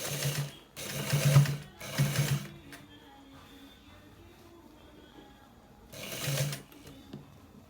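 A sewing machine stitches a pair neck design in fabric: three loud bursts of fast, rattling stitching, each lasting under a second, then a long quiet pause with faint handling, and one last burst near the end.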